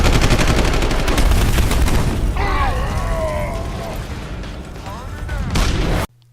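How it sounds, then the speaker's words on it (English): Sharp gunfire from the video game Deus Ex: Human Revolution, loud, dense bursts of shots and mechanical clatter running continuously under a game score with synth tones, cutting off abruptly at the end. "sharp gunfire combined with gruesome melee action"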